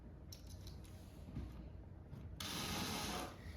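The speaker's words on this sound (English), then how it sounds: "You're just going to continue to go through and just installing all of these screws." Short whirring and ratcheting of screws being driven in, close and quiet, with a louder burst of driving near the end and no talking.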